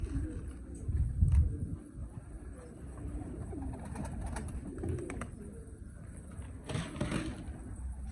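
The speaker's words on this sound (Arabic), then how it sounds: "هاي ضبيت الحمام" Pigeons coo softly in a small loft among red-crested and other fancy breeds, low murmuring calls running through the clip with faint rustling and a brief louder stir near the end; no clear talk.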